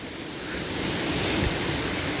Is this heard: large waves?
yes